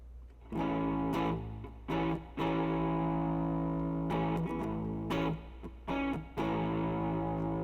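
Distorted electric guitar strums a 1-4-5 blues chord progression of sustained chords, each change marked by a fresh strum, with a warm, effected tone and no talking.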